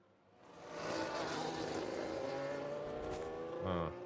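A Formula 1 car crash replay in the F1 Manager 22 racing game: a steady roar of engine and track noise rises and holds, with a short, sharp impact burst near the end.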